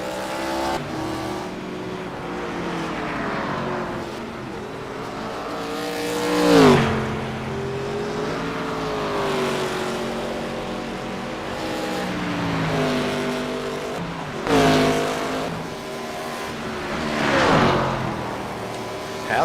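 ARCA race car at the Glen, its engine revving up and down through repeated shifts as it laps the track. Loud and continuous, with sharper surges as it passes close.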